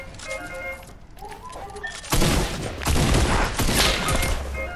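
Gunfire in an online shooter game, an opening stretch of voices and game sounds giving way to loud, sustained bursts of rapid shots and blasts that fill the rest of the moment.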